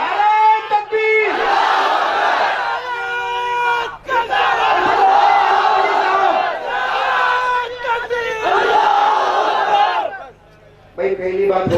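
A large crowd at a religious gathering roars back in unison after a takbir call, with sustained loud collective shouting in several long surges and brief gaps between them.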